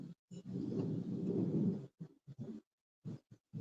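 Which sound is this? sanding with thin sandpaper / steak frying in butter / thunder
thunder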